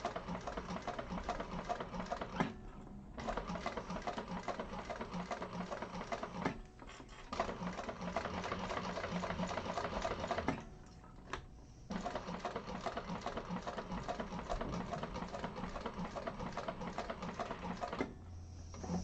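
A freshly oiled sewing machine runs steadily in close, rapid stitching bursts while sewing a handbag, stopping briefly several times between runs, with no talking.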